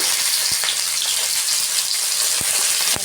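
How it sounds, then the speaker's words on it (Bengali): Whole garlic cloves and onions sizzle loudly in hot oil in a pan, a bright continuous frying hiss, close up, broken by a few sharp spatters and stirring knocks. "ভালো করে লাল করে ভেজে নেব দেখুন অর্ধেক পেঁয়াজ ভাজা আমার হয়ে গেছে এখন আমি গোটা রসুন দিয়ে দিচ্ছি"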